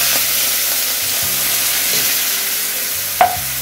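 Water is poured into a hot pan with browned bits, giving a loud, steady hiss and sizzle that holds for a few seconds, with a sharp flare of spattering near the end.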